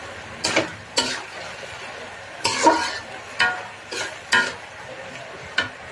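Curry simmering in a pot on a home stove, with short, separate bursts of spoon stirring and sizzling scrapes spaced every second or so, close and fairly quiet, with no talking.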